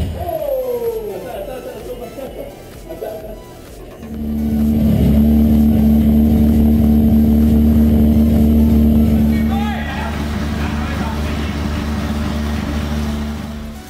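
A car with a Nissan RB26 engine revs up and holds a loud, steady, droning note for several seconds before dropping back to a lower rumble, with some background chatter around it.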